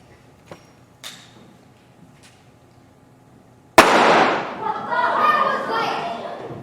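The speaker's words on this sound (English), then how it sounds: "Who fired out the gun?" A single sharp gunshot cracks out loud and close after a few faint knocks, followed by a ringing, echoing tail and excited voices from a stage musical scene.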